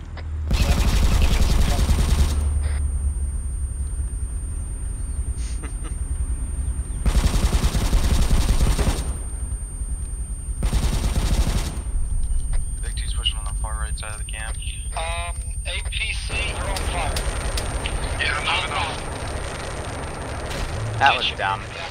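Gunfire in a Vietnam war video game, several loud sustained bursts of automatic fire separated by pauses, with voices and rustling action sounds between them.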